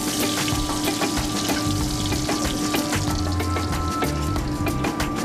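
Local doni sali peppers dry-roasting in a hot pan, a dense, continuous crackling sizzle with rapid popping ticks, close and loud without speech.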